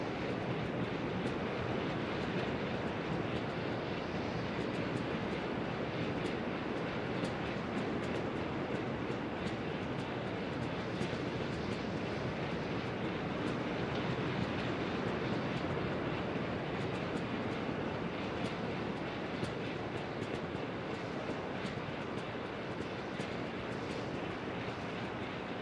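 Steady broadband airliner-style engine drone and wind rush from a flight simulator game as a plane comes in to land at runway 18 in the Tampa Bay area, constant and loud throughout, with no talking.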